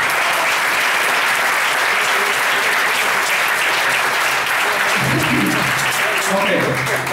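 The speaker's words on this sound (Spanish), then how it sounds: "Dense un aplauso, gracias." Audience applause during a self-improvement seminar, a loud continuous roar of clapping lasting about seven seconds, with a low voice briefly heard underneath near the end.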